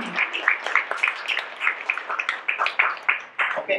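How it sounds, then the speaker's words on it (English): Audience applauding for event staff at an autism awareness gathering, a modest round of scattered hand claps with uneven rhythm, fairly close and moderately loud, with some faint voices mixed in. "I want to offer a round of applause to the staff one more time"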